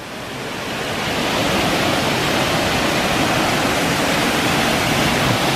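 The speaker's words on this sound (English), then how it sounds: "There's another waterfall." Waterfall on a hiking trail in South Mountains State Park, roaring as a steady, loud broadband rush of falling water that swells in over the first second and then holds.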